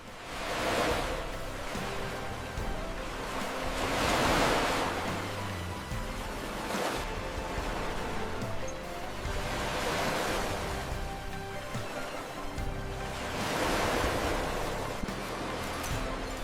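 Ocean waves wash onto a shore at night beside a beach hut, rising and falling in soft, broad surges every few seconds under a low, continuous roar.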